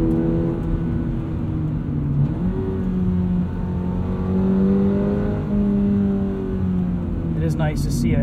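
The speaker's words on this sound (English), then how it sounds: "It is nice to see it automatically downshifting in sport mode." A 2022 Subaru BRZ Premium with automatic transmission in sport mode pulls steadily from inside the cabin, engine note rising and falling as it accelerates and downshifts, a continuous mid-loud drone with a brief shift dip near the start.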